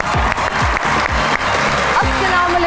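Loud, dense audience applause welcoming guests Zain Baloch and Komal Joya onto a talk show stage, sustained clapping with a host's voice and music over it.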